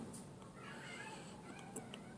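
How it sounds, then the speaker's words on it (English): A pet cat meows faintly indoors, a few soft short calls against a quiet low hum, with no talking. "Do you hear my cat saying something?"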